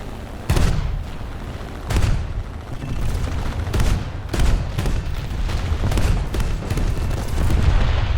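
A BF-110 G-2 rear gunner in War Thunder fires repeated loud bursts of machine-gun fire, spaced irregularly over a steady roar of engines, close and dominant.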